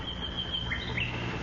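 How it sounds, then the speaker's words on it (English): A nightingale singing in a radio drama, a thin high warble with a couple of short rising chirps, fairly clear over a low steady room hum. "It's a nightingale, Mother."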